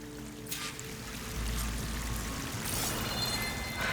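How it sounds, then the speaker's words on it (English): Waterfall in the video game Horizon Forbidden West, a steady rushing pour of water with a low rumble that grows slightly fuller partway through, alone without voices. "That waterfall must be coming from somewhere."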